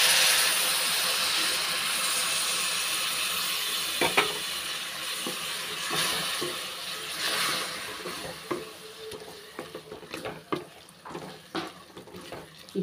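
Soaked tamarind water poured into a pan of curry, sizzling and bubbling with a watery hiss, followed by stirring clatters and scrapes that grow sparser toward the end, fairly close and moderate in volume.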